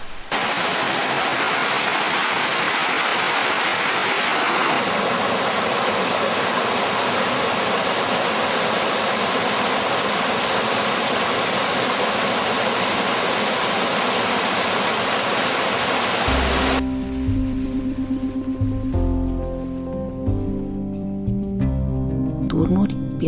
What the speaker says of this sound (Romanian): Cascada Lomășiță are 2 praguri.